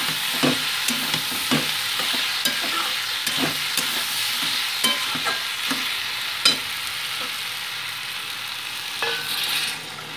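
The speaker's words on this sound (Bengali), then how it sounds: "ঝোলের সাথে সবজির সাথে সবজিগুলো একটু মিশিয়ে নিচ্ছি আমি।" A spoon scrapes and stirs vegetables through curry gravy in a pan, with a steady frying sizzle beneath repeated sharp clinks and scrapes at close range, no voices.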